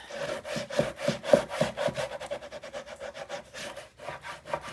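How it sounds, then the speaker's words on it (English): Paper is burnished on the back side of a 9 x 9 mini album panel, making a quick, rhythmic rubbing and scraping close up. The strokes come in regular back-and-forth bursts and pause briefly near the end. "now I'm going to turn this over so I can burnish on the back side"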